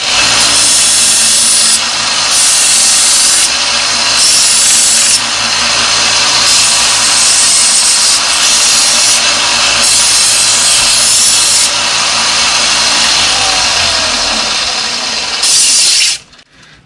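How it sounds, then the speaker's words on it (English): A belt grinder with a finer, faster belt rounds and blunts the edge of a steel blade, a loud, steady abrasive whir with rhythmic grinding surges as the blade passes, cutting off abruptly at the end. "So I'm gonna finish off on a finer, faster belt here."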